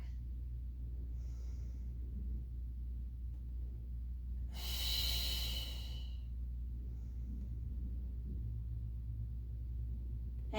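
A person taking one long, audible breath during a pilates mat exercise, a rushing exhale lasting about a second and a half over a low steady background hum, with a fainter breath before it.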